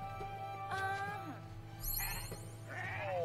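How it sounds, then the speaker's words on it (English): Sheep bleating in the video game Renowned Explorers, a few short wavering cries over a steady low game-music hum, fairly faint. "Let's impress that sheep."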